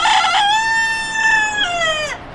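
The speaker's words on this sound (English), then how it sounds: "The chicken has something very important to say." A rooster crows one long, loud, close cock-a-doodle-doo with a stuttering start and a falling tail, heard alone without talk.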